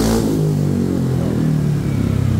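Yamaha NMAX 155 scooter fitted with an SKR Racing aftermarket exhaust, revving hard in a close, loud, brief burst that settles into a throbbing, slightly raspy idle-like drone.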